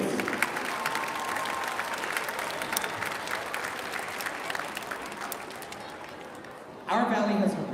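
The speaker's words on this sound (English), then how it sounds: "Can we give them another big round of applause" An audience at a school district arts showcase applauds a varsity choir, a dense wash of clapping that fades gradually before a voice speaks over the hall.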